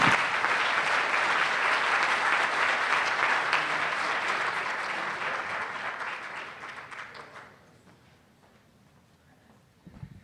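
A live audience at a design panel discussion applauds loudly and steadily, then the clapping thins out and fades to near silence, with a brief stir of noise right at the end.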